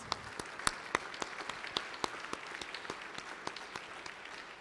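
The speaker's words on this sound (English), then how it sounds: "If we can give them a round of applause" Scattered applause from an audience in a legislative gallery during an awards recognition, sharp individual claps standing out over a soft, steady patter, moderately distant and fairly quiet.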